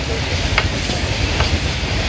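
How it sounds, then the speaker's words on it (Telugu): A train rumbles past nearby, a loud, steady roar with a hissing wash and faint rhythmic rail clatter, continuous throughout. "ట్రైన్ వస్తుంది చూసారా"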